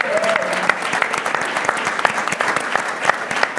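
A church congregation, standing, claps for a longtime minister at an anniversary service, sharp dense clapping with a few louder individual claps. A voice is heard briefly near the start beneath the applause.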